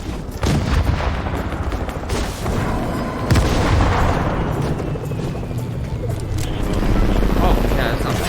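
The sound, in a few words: RPG rocket explosions in a video game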